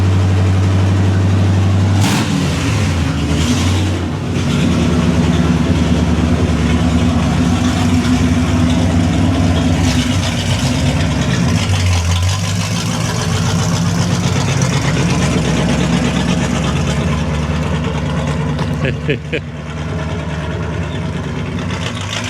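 A 1964 Corvette engine runs inside a garage with no mufflers fitted, idling and revving in a rough, throaty rumble that rises and falls over about twenty seconds, close and loud.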